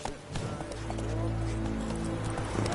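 Horse hooves clip-clopping at a run in The Witcher 3, a steady galloping rhythm under a low sustained tone, with a voice talking over it.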